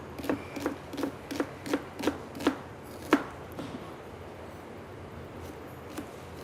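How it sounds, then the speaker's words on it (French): A knife roughly chops half an onion on a board, a run of about eight crisp, evenly spaced cuts, then a few scattered, softer taps before trailing off. "Je vais juste un peu préparer grossièrement un oignon"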